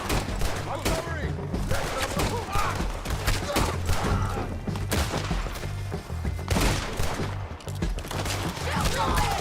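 Gunfire in Red Dead Redemption 2 cracks in rapid, uneven volleys of close, loud shots across the whole stretch, with voices calling out between the bursts.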